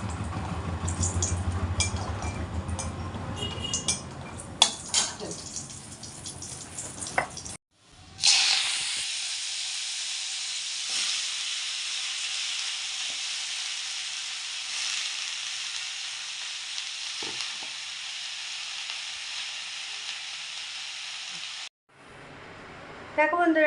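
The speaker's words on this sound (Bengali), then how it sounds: "চলো এখন এই যে বড়িটা ভেজে নিয়ে তারপর শাকটা দিয়ে দেবো" Lentil dumplings (bori) frying in hot oil before greens go in, a steady close sizzling hiss that runs for about fourteen seconds after a cut, with clattering and talk in the opening seconds.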